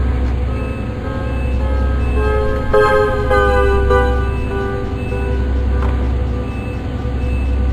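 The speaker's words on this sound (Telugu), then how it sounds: "హార్న్ ఇస్తున్నా అండి." A diesel train horn in the MSTS train simulator game sounds over a steady low locomotive engine rumble, with a couple of sustained horn blasts and a shorter toot later, loud and close.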